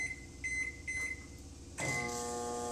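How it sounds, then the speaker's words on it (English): A microwave oven cooking a flourless peanut butter mug cake, first a quiet steady hum with a few soft tones, then a louder, brighter whirring drone as it runs on, close and with no voices. "you're going to put it in the microwave for 1 minute"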